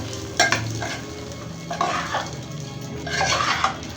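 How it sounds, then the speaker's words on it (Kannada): A spoon stirs gojju avalakki, flattened rice mixed with masala, in a pan, giving soft scraping and clinking strokes in irregular bursts over a low continuous sizzle. "ಗೊಜ್ಜು ಅವಲಕ್ಕಿ ಎಲ್ಲ ಮಿಕ್ಸ್ ಮಾಡ್ಕೊಳ್ಳೋಣ"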